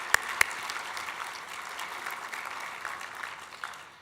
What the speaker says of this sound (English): So let's give a round of applause for Ryan.